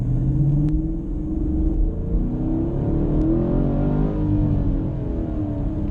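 Chevrolet Camaro engine droning steadily from inside the cabin, with rising and falling harmonics as it accelerates and changes gears, a constant loud rumble throughout.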